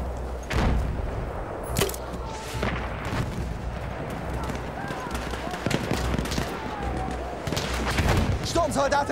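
Machine gun fire in a Battlefield game, irregular bursts of sharp reports and booming thuds over a dense battle din, with someone speaking German over parts of it.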